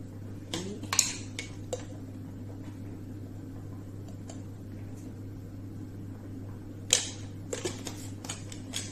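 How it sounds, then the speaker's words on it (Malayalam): Knife cutting cabbage for a Kerala cabbage thoran, a few sharp chopping clicks on a board, faint and scattered over a steady low hum, with one louder cluster near the end of the first second and another later. "ക്യാബേജ് തോരനുള്ള ക്യാബേജ് കട്ട് ചെയ്ത് തരും"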